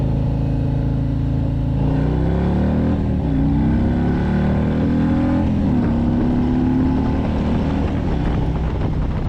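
A Harley-Davidson Street Glide Special (FLHXS) touring motorcycle accelerating on a test ride, its loud engine rising steadily in pitch with heavy wind buffeting the microphone throughout, no talking.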